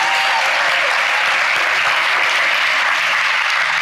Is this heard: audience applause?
yes